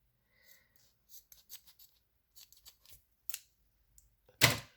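Scissors snipping paper up close: several quick crisp cuts in short clusters with pauses between, ending in one louder, longer cut, with no talking over them.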